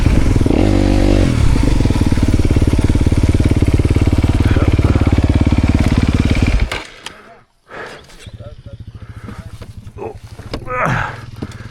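Dirt bike engine blaring loudly and continuously at close range during off-road training riding, then dropping away to a quieter buzzing idle with voices talking nearby.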